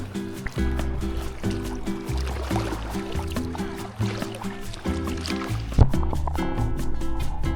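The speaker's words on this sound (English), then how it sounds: "This was the first time I dunked the Action 5 in the water." Action 5 camera submerged in cold lake water in Michigan's Upper Peninsula, giving a muffled underwater rumble with bubbly, sloshing texture and a few knocks, no voices.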